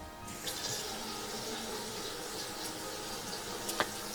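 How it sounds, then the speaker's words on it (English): Water running from the tap into a freshly snaked bathroom sink and draining away, a continuous rushing flow heard close up with a few small splashes and gurgles. "Water is draining perfectly and there is no leak."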